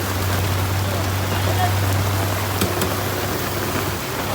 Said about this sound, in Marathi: भरपूर पाऊस आहे.